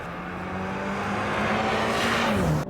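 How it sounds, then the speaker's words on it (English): A 2020 Mini GP engine sends its induction noise into the cabin while driving, rising in pitch and loudness as the car accelerates, with no talk over it. "It does sound quite good as well. There's a nice little induction noise."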